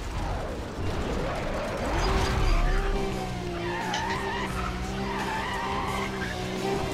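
Car drifting in the Need for Speed Undercover video game, loud tire squeal and skidding over engine roar, the screech stretching into sustained tonal wails across most of the stretch.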